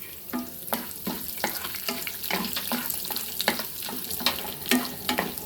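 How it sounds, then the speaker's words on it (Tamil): Urad dal, mustard seeds and dried red chillies crackle and sizzle in hot oil, sharp popping bursts scattered over a steady fry, close and fairly loud, with no talking. "உளுத்தம்பருப்பு கடுகு மூணு காஞ்ச மிளகா இதை தாளிச்சிக்கலாம்"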